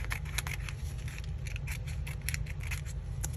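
Scissors snip through wrinkled wrapping paper in a quick run of crisp, close cuts over a low background hum.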